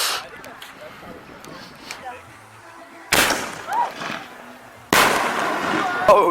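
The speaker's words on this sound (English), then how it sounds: "We're doing a fireworks show across the thing so we can see it." Fireworks bursting outdoors: two sudden loud explosive cracks with crackling tails, separated by a few seconds, amid people talking and reacting nearby.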